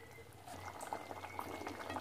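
Sesame and coconut paste poured into a pan of simmering brinjal kootu, a bubbling, gurgling liquid sound that swells after a brief quiet start and continues steadily at close range, with no talk.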